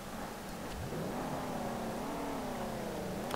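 A car engine in the racing game SLRR holds a steady, continuous drone that rises and falls in pitch as it revs, a worn engine that keeps running rough without pauses.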